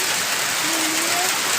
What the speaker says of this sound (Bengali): এর মধ্যে কি বৃষ্টি হচ্ছে দেখো,